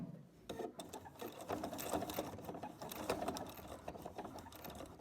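Sewing machine stitching slowly through a bulky quilt corner, a steady, rapid mechanical chatter that starts after a brief pause and runs on evenly, close and quiet, without talking.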